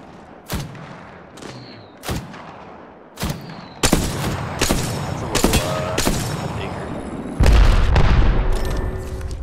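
Gunfire in the Apex Legends video game: sharp single shots crack at uneven intervals, then louder bursts and booms build up, with a heavy blast near the end, all close and loud.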